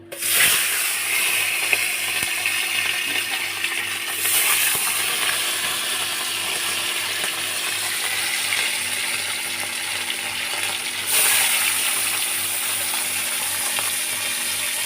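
Bata fish frying in very hot oil make a continuous, loud sizzling hiss that stays dense and even throughout, with faint swells of spattering and no speech.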